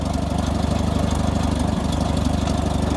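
A vintage tractor engine idles steadily and loudly up close, with a constant low chug throughout and no voices.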